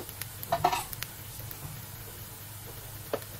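Vegetables sautéing in a pan: a soft, steady sizzle with a few scraping stirs of a utensil, faint and close, and no talk.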